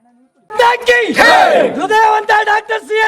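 BJP and JDS party workers loudly chant slogans for Dr Manjunath during door-to-door campaigning in Makali village, with a crowd of voices shouting in rhythmic bursts close by.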